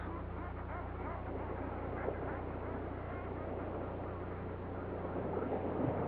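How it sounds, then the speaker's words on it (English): Hundreds of seabirds in the air at once over the Arctic, a dense, continuous chorus of overlapping honking and quacking calls heard from a distance, steady and layered without pause. "hundreds of birds are in the air at once"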